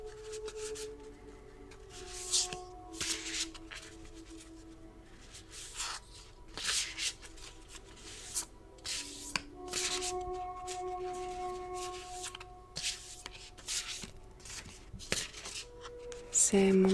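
Oracle cards being shuffled by hand, repeated soft riffling and rubbing bursts in an irregular rhythm, close and quiet, with faint tones in the background.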